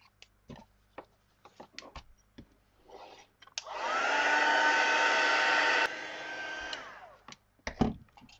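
A heat embossing tool melting gold embossing powder on a stencilled craft piece blows with a loud, steady hair-dryer-like roar for about three seconds, with scattered clicks and handling noises before and after.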